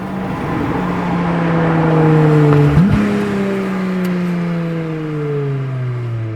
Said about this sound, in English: Take a good listen to the exhaust note of the hybrid V6